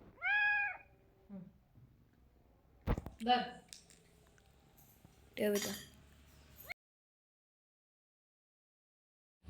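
A cat meows loudly and close at the start, in a kitchen where a spoon clinks and dishes rattle, with people talking nearby.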